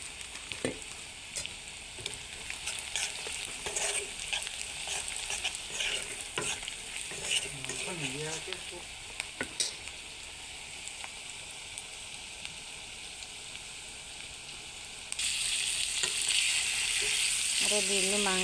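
Meat stirred and fried in a pan with Kashmiri chili and meat masala: a dense, continuous sizzle with repeated scraping strokes, a brief voice in the middle, and the hiss growing louder near the end.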